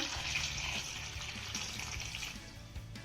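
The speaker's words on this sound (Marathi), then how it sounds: "कैरीमध्ये आपल्याला भरपूर असं पाणी घालायचं आहे" A steady stream of water pours and splashes over raw mangoes in a container, fairly quiet and continuous throughout.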